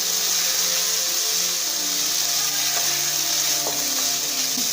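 Masala frying steadily in a pan with a little water, a soft continuous sizzle with faint hum and a few light scraping stirs toward the end.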